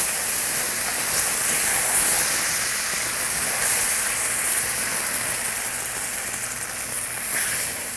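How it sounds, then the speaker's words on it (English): Beef broth poured into a roux in a pan makes a loud, continuous hissing sizzle that holds steady throughout, with no voices. "And I'll add 1 1/4 cups of beef broth"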